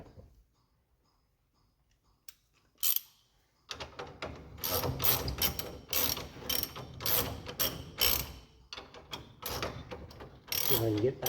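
Ratchet tightening a nut and bolt on disc brakes: after a quiet start with a couple of isolated clicks, rapid close metallic ratcheting comes in repeated bursts.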